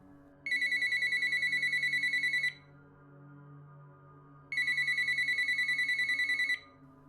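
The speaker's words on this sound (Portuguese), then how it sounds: "o telefone que estava em uma mesinha ao lado do sofá começou a tocar." A telephone on a small table beside a sofa rings twice, each bright electronic trill lasting about two seconds with a pause between, over a low dark drone in an abandoned house.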